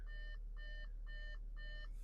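Four evenly spaced electronic beeps from a 2014 Audi A4 B8 2.0 open-hood warning, each a steady high chime lasting about a third of a second, repeating in a regular on-off pattern over a low engine hum.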